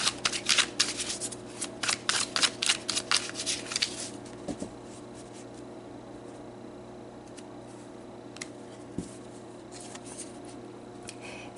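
Tarot cards shuffled by hand in a quiet room: a run of crisp riffling bursts over about four seconds, then a couple of soft taps and near silence.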